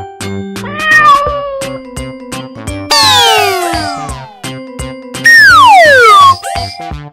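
A cat meows in several clear, rising-and-falling calls, loud and close, over a bouncy children's music backing with no talk.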